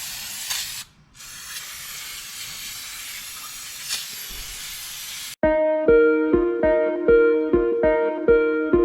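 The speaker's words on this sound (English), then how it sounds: "Don't get brake cleaner on me." Brake cleaner hisses from a spray can for about five seconds during transmission removal on an 8th-generation Honda Civic Si, a steady close broadband spray with a brief pause, followed by music with regular beats.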